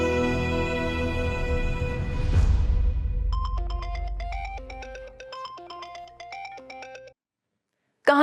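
A phone ringtone plays a repeating melodic tune for several seconds after a low rumble of background music fades, then cuts off abruptly into silence.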